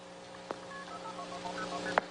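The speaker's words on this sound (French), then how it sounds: "It sounded like all the tones were present, so the phone should be ringing about now." Telephone network dialing tones, a few short pitched beeps scattered across a quiet background with a hum, and sharper bursts standing out near the start and the end.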